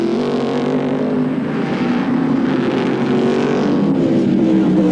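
An Elfin sports racing car runs at full speed during a 1984 Australian Sports Car Championship race, its high-revving engine a loud, sustained wail that shifts in pitch as it holds throttle, with no voices over it.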